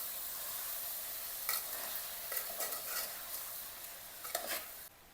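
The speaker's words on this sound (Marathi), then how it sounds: "कुकरला शिजवलेली मटकी, शेंगदाणे आणि बदाम छान मिक्स करून घ्यायचं" Boiled moth beans, peanuts and almonds being stirred in a pan, a spoon scraping and clattering in short bursts over a soft, steady sizzle, with no voices.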